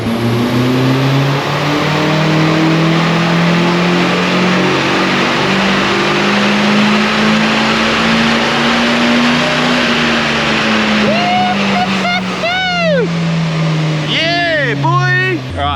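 A Nissan SR20 N14 engine revving on a dyno, a loud sustained drone that climbs slowly and steadily in pitch, then drops, with voices and short whoops near the end.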